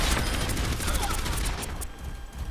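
Orisa's gun in the video game Overwatch firing a rapid continuous stream of shots, loud and close, easing off briefly near the end.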